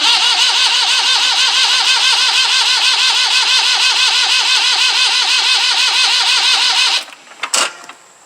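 A Jinma 284 tractor engine cranked by its starter after an injector pump replacement, with a loud, steady rhythmic whirring crank lasting about seven seconds that cuts off, followed by brief clattering.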